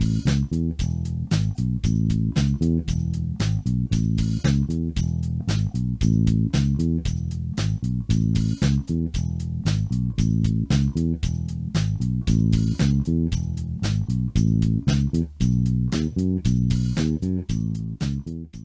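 A soul bass riff repeats steadily over a drum track, with a punchy low groove and crisp steady drum hits running throughout at strong, even loudness.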